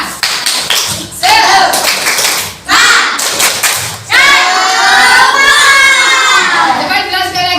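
A class of schoolchildren performs a rhythmic group clap in a classroom, sharp bursts of clapping coming in patterned bunches mixed with young voices chanting and calling out loudly throughout.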